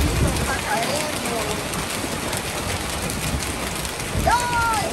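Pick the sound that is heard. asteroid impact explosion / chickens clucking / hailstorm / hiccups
hailstorm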